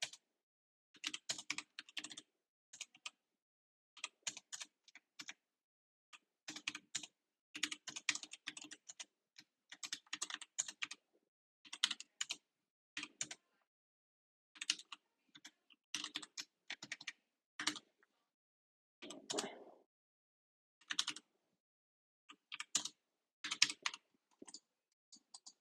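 Typing code on a computer keyboard, quick bursts of soft key clicks separated by short pauses, close and quiet, with no voice.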